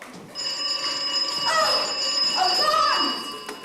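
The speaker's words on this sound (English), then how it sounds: "Alarms! Bells!" Alarm bells ringing indoors, a loud, continuous electric bell tone sounding throughout, with brief voices and shouts breaking in over it.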